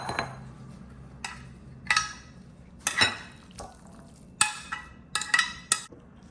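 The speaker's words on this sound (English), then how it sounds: "Now I'm going to scrape this into a bowl." Cooked pumpkin being scraped into a bowl: a series of short clinks and scrapes of a utensil against the dish, uneven and close, with a wet squelch at the start and quiet pauses between strokes.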